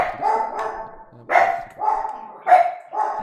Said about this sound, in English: Dogs are barking now.